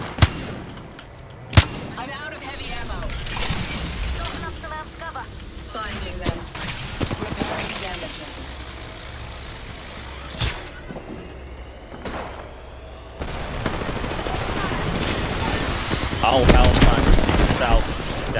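Gunfire in a video game shooter, scattered sharp cracks and short automatic bursts spread across the stretch, some near and loud, others fainter, under frequent talking voices and busy game noise.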